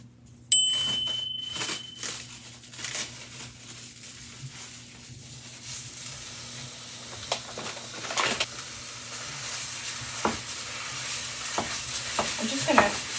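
A pound and a half of ground beef fries in a heated cast iron skillet, crackling and sizzling steadily while a utensil scrapes and clicks against the pan; no one speaks.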